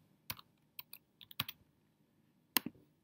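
Keys on a computer keyboard are tapped in short irregular bursts, crisp close clicks with pauses between groups and no voices.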